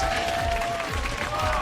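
Studio audience applause at a League of Legends esports broadcast, EU LCS 2018 Spring, Vitality versus H2K: a steady, dense wash of clapping and crowd noise that holds for the whole short stretch.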